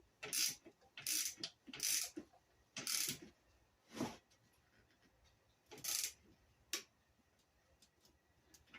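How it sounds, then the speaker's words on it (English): Ratchet wrench tightening a bolt on a radiator being installed in a 2001–2007 Ford Escape: several short bursts of rapid clicking ratchet strokes separated by pauses, close and fairly quiet, with no talking. "I'm using a ratchet wrench."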